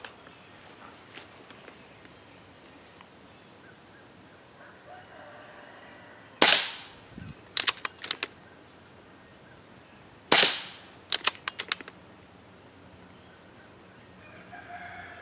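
A Benjamin P Rod air pistol fires two sharp, loud shots at a target several seconds apart. Each shot is followed by a quick burst of small metallic clicks and knocks, over quiet background.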